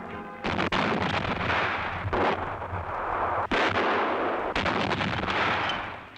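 A 155 mm GCT artillery gun fires shells in several loud, booming blasts, each followed by a long rumbling roll, with no speech.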